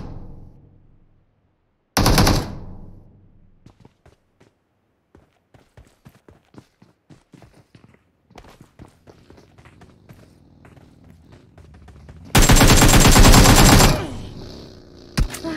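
Gunfire in the mobile battle-royale game PUBG Mobile, with two loud sustained bursts of automatic fire, one short and one longer, separated by quieter footsteps and scattered clicks.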